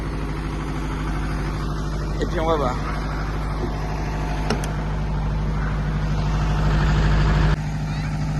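Idling truck tractor engine with a steady low rumble throughout as the vehicle creeps forward, with someone speaking French over it and a brief squeak partway through.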